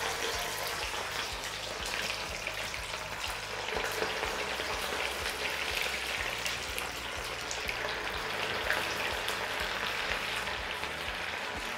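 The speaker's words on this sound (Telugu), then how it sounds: "వీటిని క్రిస్పీగా అయ్యేంత వరకు ఫ్రై చేయాలి." Pieces of fish frying in very hot oil, a steady close crackle and sizzle that carries on without a break and with no voices over it.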